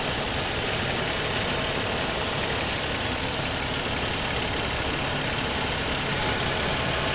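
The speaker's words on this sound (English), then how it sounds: "Okay, the engine's running." A Toyota car engine idling with a steady, dense, unbroken rumble that holds an even level from start to finish, close and loud with no voices over it.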